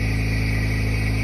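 A car engine idles steadily and loudly, a constant low hum with a mechanical whine that stays even throughout the short stretch, with no voices over it.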